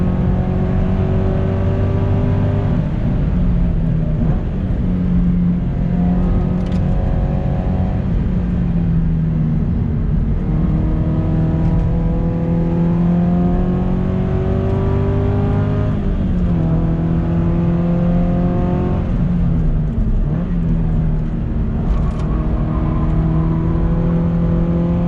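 A modified 2014 Subaru BRZ flat-four engine revs hard on a race track, loud and continuous from inside the car, climbing through the gears with repeated upshifts and throttle lifts.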